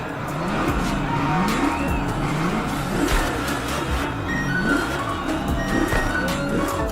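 Drag racing car in The Crew Motorfest, its engine roaring continuously and loud with rising and falling rev sweeps, plus tire squeal and skid noise throughout.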